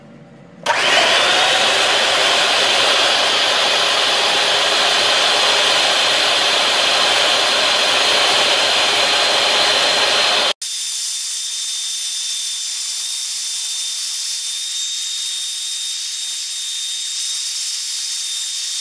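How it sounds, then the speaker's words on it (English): Electric hand beater fitted with a single whisk whipping egg whites for an omelette, a loud continuous whirring hiss that starts abruptly, then drops to a thinner, higher steady whine partway through. "I've got my handy beater here with just 1 whisk in it."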